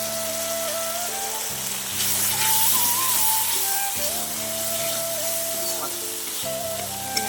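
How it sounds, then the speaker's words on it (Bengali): Spice paste sizzles in a pan with salt and a pinch of sugar, a soft steady frying hiss close by, while tonal background music plays throughout. "মশলাটা কষাতে আমি এর মধ্যে দিয়ে দেবো পরিমাণ মতো নুন আর দিয়ে দেবো সামান্য একটু চিনি"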